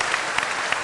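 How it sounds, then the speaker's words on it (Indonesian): A studio audience on a talk show applauds in a steady, dense wash of clapping, brief and continuous, with a few slightly louder claps standing out. "Boleh tepuk tangan?"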